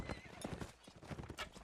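Horses in a video game battle gallop with rapid clip-clop hoofbeats and a whinny, busy and close, under a faint background of voices.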